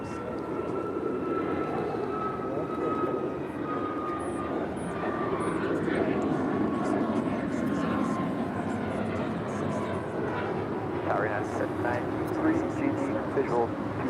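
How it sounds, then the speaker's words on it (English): A Spirit Airlines Boeing 737 MAX 8 departs LAX from the south side, a steady engine roar at moderate distance, with air traffic radio chatter and people talking over it throughout. "Next departure here on the south side is Spirit Airlines flight 1564 on her way to San Antonio, Texas at a 737 MAX 8"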